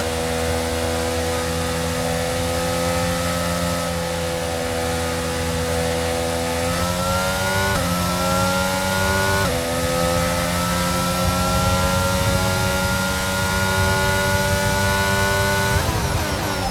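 A race car accelerating up to speed, its engine a loud, continuous, close drone that climbs in pitch through several gear changes, with no voices.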